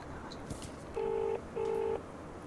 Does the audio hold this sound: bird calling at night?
no